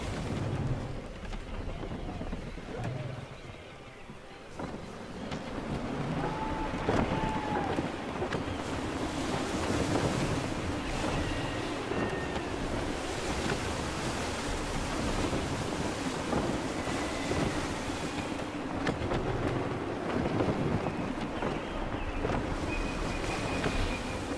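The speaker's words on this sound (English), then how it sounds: "Gusty winds can be difficult to manage." Wind and ocean waves at sea in Assassin's Creed III, a steady, full wash of surf and gusting wind with low rumble, continuous and fairly loud throughout, no voices.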